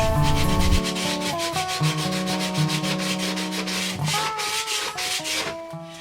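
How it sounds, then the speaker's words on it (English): Rapid, rhythmic sanding strokes rasp back and forth across wood inside a guitar body during a guitar build, close and steady, with music playing underneath. "sanding and prepping the inside of the guitar to be as nice, really, as the outside"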